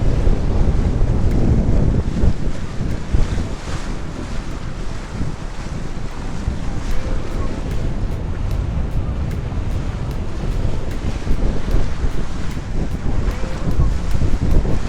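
Surf breaks over a reef close to a beach near Kilauea while strong wind buffets the microphone, a loud, continuous roar of water and gusts with no talking.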